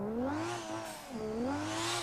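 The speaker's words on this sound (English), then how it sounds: "Huge amounts of turbo noise in this car." Car in BeamNG Drive revving hard with a loud, whining turbo noise rising over the engine, easing off briefly before climbing again, with no talking.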